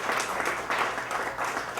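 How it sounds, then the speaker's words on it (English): An audience at a fundraiser event applauds, a steady wash of many hands clapping in pulsing swells, fairly close and loud. "give a round of applause"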